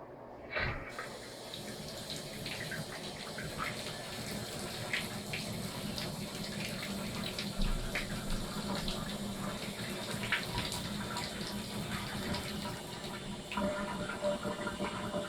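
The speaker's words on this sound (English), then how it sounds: "Now I'm gonna go open the water and make sure there's no leak." Water runs steadily through a repaired shower valve, a continuous hiss and splash of flow that starts after a short pause and holds evenly throughout, moderately distant.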